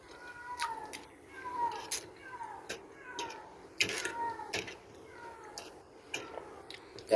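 Hungry pet cats meow repeatedly in a storeroom, several drawn-out, fairly quiet cries spread across the scene amid occasional clinks and faint background voices.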